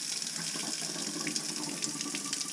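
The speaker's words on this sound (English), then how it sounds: "I'll just put the tap on and you should be able to see some steam starting to come through" Hot water running steadily from a campervan tap fed by a Truma Ultrastore water heater, a close, even hiss of flow into the sink with no talking.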